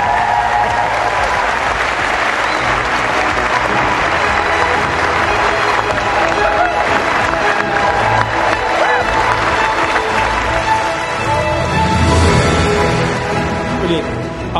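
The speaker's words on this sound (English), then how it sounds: "Let's give them a round of applause" Wedding guests inside Ballintubber Abbey break into loud, sustained applause and cheering for a newly married couple, a thick wash of many hands clapping with scattered whoops, swelling briefly near the end.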